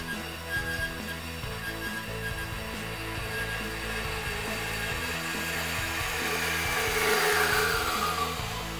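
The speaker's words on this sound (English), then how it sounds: "Now that our tubing has been cut to length" Steel tubing 1.5 inches across with a 0.095-inch wall being cut to length, giving a loud, continuous machine drone that holds steady throughout and swells slightly near the end, with no talking.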